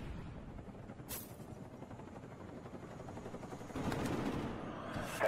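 A care package helicopter in the Black Ops video game, its low rotor thrum fairly faint under distant gunfire, with a sharp crack early on and the noise swelling louder toward the end.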